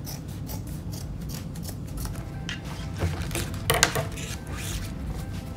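Scissors snip through pants fabric while hemming, a run of close, crisp cutting strokes with metallic shearing, steady and moderately loud with no talk.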